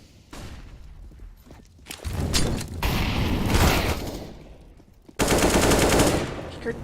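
Rapid rifle fire in a CS:GO match on the Cache map, loud bursts of automatic shots rattling in quick succession, with a lull between volleys and another dense burst near the end.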